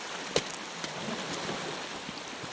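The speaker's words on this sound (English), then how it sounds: "it's starting to rain" Steady rain patters and hisses across a surface, with a few sharper drip clicks standing out from the even wash.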